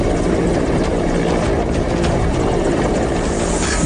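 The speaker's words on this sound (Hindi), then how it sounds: "ऊपर हेलीकॉप्टर पर जवान" Helicopter hovering low over raging floodwaters during a rescue, a loud, steady rotor and engine roar filling the whole stretch with a dense wash of noise.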